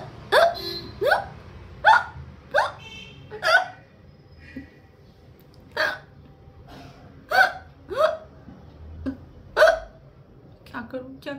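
A long run of close, abrupt hiccups, about a dozen, coming at an uneven rhythm with short pauses between some of them.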